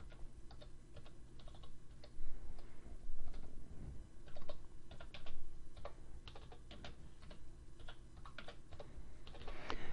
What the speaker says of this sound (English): So I'm going to type it for my criteria.